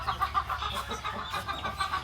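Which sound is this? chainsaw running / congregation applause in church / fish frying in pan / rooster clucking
rooster clucking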